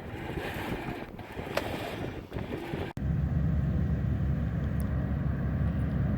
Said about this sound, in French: C'est la drague le bateau Fort Boyard qui rentre dans le port de Piriac.